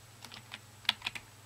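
Keys clack as someone types on a USB keyboard plugged into an Android phone, a short, quiet run of about half a dozen close, crisp keystrokes at an uneven pace.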